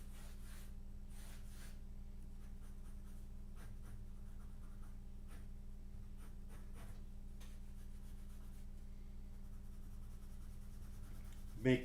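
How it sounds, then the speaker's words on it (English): Pen scratching quickly across paper in a live sketching session, faint soft strokes in short irregular bursts over a steady low hum, close but quiet. "Make very quick sketch so that you can see"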